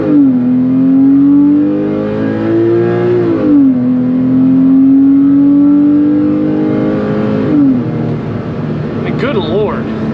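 A Porsche 997.1 Carrera S with Tiptronic S automatic, in sport mode, accelerates hard on a back road, its engine note climbing steadily with two audible upshifts, loud and close from inside the cabin.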